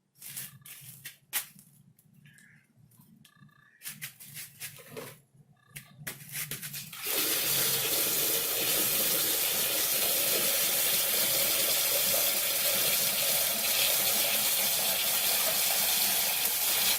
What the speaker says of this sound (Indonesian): Untuk penyiraman kita gunakan air sumur ya, jangan menggunakan air leko karena dia mengandung kaporit.